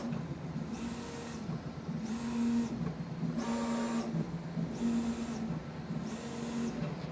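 A 3D printer hums and whines as its motors move the print head to begin a new print, with repeating pitched motor tones in a steady cycling pattern, close and moderately quiet.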